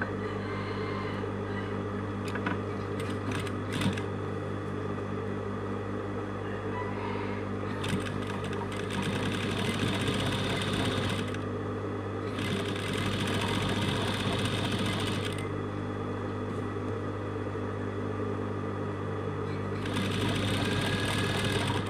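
A sewing machine stitching along a box-pleat curtain tape, loud and close, running in long whirring bursts separated by brief pauses, with a low motor hum throughout.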